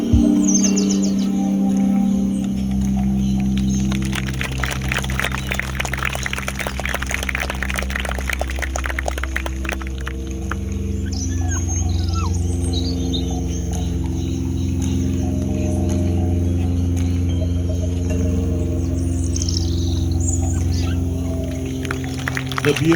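Wild parrots calling and chirping as they feed in the late afternoon in Australian country, a dense, steady chorus of bird calls over a continuous low background hum, with a louder buzzing stretch early on.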